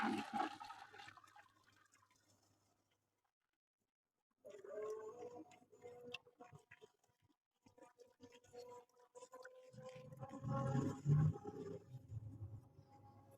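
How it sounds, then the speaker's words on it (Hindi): Water poured into a pot of beef chana daal with meat bones, a broad splashing pour rising in the last few seconds after a quiet stretch, with kitchen clatter earlier. "अब इसमें सारा पानी डाल देंगे"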